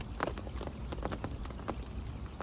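Rain clatters against the roof of a carp-fishing bivvy during a storm, a close, irregular patter of sharp drops over a steady hiss, heard alone without talk.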